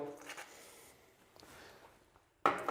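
Anti-fog foam for airsoft goggles squeezed and rubbed onto a paper towel gives a soft, scratchy rustling that fades, then ends in a brief louder scrape.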